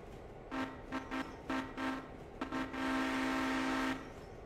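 A train horn in a train video game, sounded in several short toots followed by one longer sustained blast, clear and fairly close over a quiet rumbling background.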